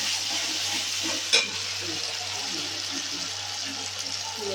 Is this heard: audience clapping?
no